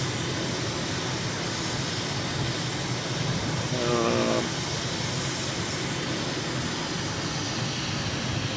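A light aircraft's engine under power on final approach with flaps and gear down roars steadily and loud throughout, a brief tonal whine rising over the drone near the middle; nothing is said.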